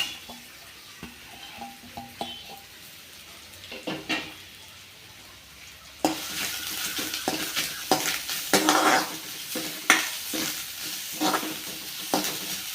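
Grated coconut roasting in a pan for a Kerala-style curry, with quiet sizzling and a spoon scraping and stirring, which turns into louder, continuous frying and clattering stirs halfway through.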